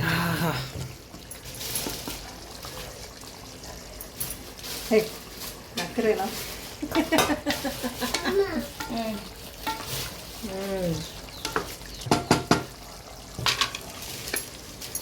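Mutton and Tenkasi-style salna cooking in a pot, a continuous low simmering sizzle with irregular stirring clatters of a spoon against metal, while a person talks over it for much of the time.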